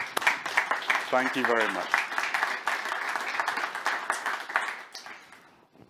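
Audience applause at the end of an open-source sustainability conference talk, steady dense clapping throughout with someone briefly speaking over it, tapering off at the end.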